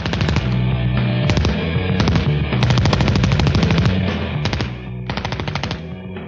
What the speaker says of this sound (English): I'm shooting the Thompson submachine gun, or Tommy gun